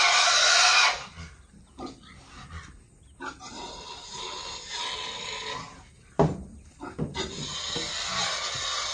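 Fattener pig grunts and snorts, loud and close, in irregular bursts with short pauses, with rustling and shuffling around them on a farm.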